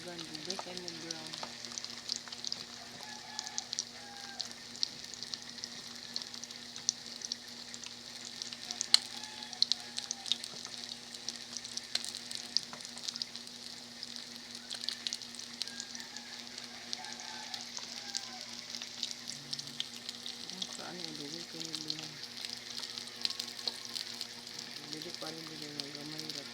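Shanghai-style spring rolls fry in a shallow layer of hot oil, a soft steady sizzle and crackle running throughout while someone talks quietly now and then.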